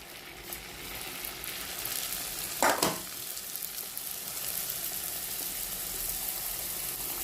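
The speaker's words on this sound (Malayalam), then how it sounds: "വെളിച്ചെണ്ണയൊക്കെ ചൂടായിട്ടുണ്ട്. നമ്മളിത് അതിട്ട് കൊടുക്കുക." Pieces of dough fry in hot coconut oil with a continuous, dense sizzle, heard up close. A louder burst of bubbling rises briefly as more dough goes in, then settles back into a steady hiss with no talking.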